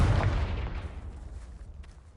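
A Confringo fire blast spell cast in Hogwarts Legacy lands as a single booming blast that decays into a fading rumble over about two seconds.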